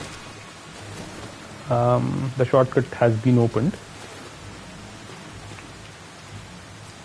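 Steady rain in the video game Wo Long: Fallen Dynasty hisses continuously throughout, with a brief spoken in-game line partway through.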